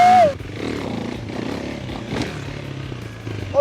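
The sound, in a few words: motorcycle engine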